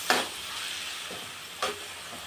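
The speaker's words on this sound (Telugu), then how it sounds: "మీడియం ఫ్లేమ్లో పెట్టి ఉడికించుకోవాలి క్యాబేజీ." Cabbage curry cooking in a pan on a medium flame, with a soft steady sizzle and two brief scraping stirs, fairly quiet and without talk.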